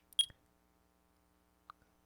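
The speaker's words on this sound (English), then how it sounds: "Let's sound the clock now, here in this court!" A courtroom clock in the Phoenix Wright: Ace Attorney video game gives a short electronic beep with a bright tone, followed by a second, fainter blip, each standing alone against near silence.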